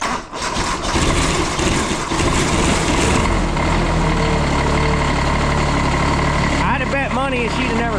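A diesel engine idles steadily after its glow plugs are cycled, a loud, even low rumble throughout, with people talking briefly near the end.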